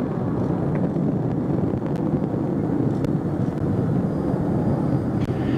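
Space Shuttle Atlantis engines roar during its final launch from Kennedy Space Center, a steady, loud, broadband rumble that holds unbroken throughout with no voices.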